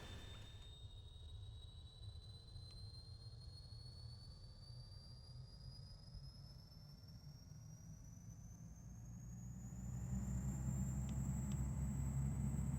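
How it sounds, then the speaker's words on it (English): Simulated aircraft engines starting up in X-Plane 11 during a Grand Canyon tour charter flight: a steady low rumble and rising whine that swell louder near the end, with no talk. "These engines starting up."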